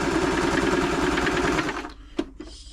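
A Brother LS 2125 sewing machine running a straight stitch, a close rapid mechanical chatter at a fast steady pace for almost two seconds before it stops, followed by a couple of small clicks.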